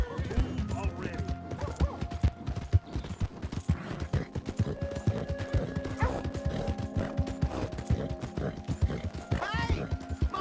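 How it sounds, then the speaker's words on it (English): Horse hooves clopping with an occasional whinny in a Western-style scene, steady clip-clop rhythm at moderate distance, mixed with mechanical clatter and voices talking over it. "Hey! My horse!"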